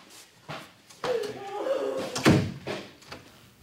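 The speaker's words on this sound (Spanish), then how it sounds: "Nicolás, pasa y cierra la puerta" A door is pulled shut indoors with one dull, close thump. Voices are heard around it.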